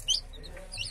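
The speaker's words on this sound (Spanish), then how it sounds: "Estaba chillando ya el pollito, mira." A newborn chick in a shoebox gives a few high, thin peeps, one near the start and another near the end, over a low background hum.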